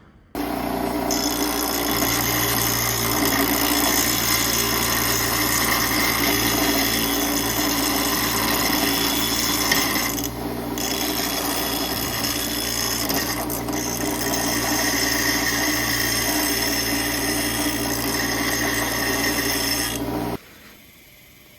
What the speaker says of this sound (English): So we're gonna have to grind the sides off a little bit to get these C-clips to fit down in there.